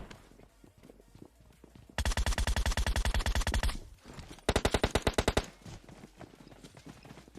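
Automatic gunfire in the mobile battle-royale game PUBG Mobile, two long rapid bursts of evenly spaced loud shots separated by a short pause, over quieter background game sounds.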